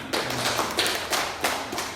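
Students in a vocational high school classroom clap together in a lesson on Islamic ethics. The claps come as a few sharp, uneven bursts, moderately loud in the room, with no one speaking.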